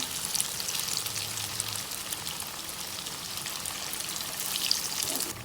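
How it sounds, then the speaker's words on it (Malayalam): Chicken parippu vada, a lentil fritter snack, deep-frying in hot oil, giving a steady, close hiss of fine bubbling and spattering with no voices over it. "ഫ്രൈ ചെയ്തെടുത്തിട്ടുള്ള ചിക്കൻ പരിപ്പ് വടയെ എണ്ണയിൽ നിന്ന് മാറ്റാം"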